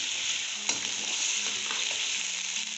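Carrots frying with meat over high heat in a pot, a dense bright sizzle running continuously with a few soft stir scrapes and a light knock, near and without voices.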